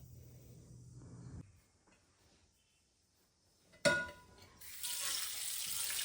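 Tap water suddenly gushes and splashes steadily onto an old non-stick dosa tawa, following a stretch of quiet kitchen background.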